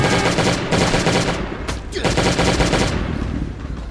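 Continuous loud gunfire while battling zombie waves at a police station in the survival game Last Day On Earth, dense overlapping shots with a brief lull midway, and a voice speaking faintly under the shooting.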